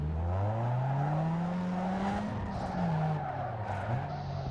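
A car in the Need for Speed racing game drifts hard, its engine note rising and falling under a continuous tire squeal and skid that fills the whole stretch, loud and close.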